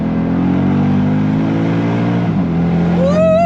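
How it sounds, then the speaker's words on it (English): A Mercedes SLK 55 AMG V8 revs in second gear, a deep loud engine drone that builds to a rising, higher-pitched roar near the end. "I've put the car into second gear so that we can listen to the V8 finally"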